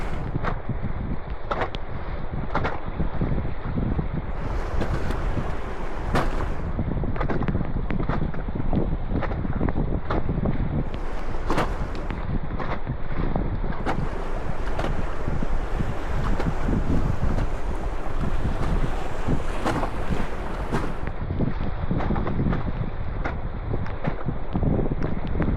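Whitewater wave train on the Snake River during a September rafting trip, a steady loud roar of rushing, churning water with gusty wind buffeting the microphone throughout.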